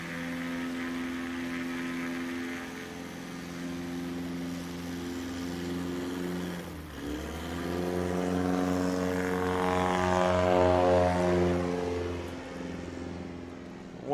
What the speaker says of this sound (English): wonder what that little burble with the engine was